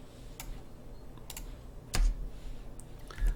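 Computer keyboard clicked during a Maya 2019 3D modeling session as shortcut keys are pressed: a few isolated sharp key taps spaced apart, then two louder thumping presses, close up over a quiet room hum.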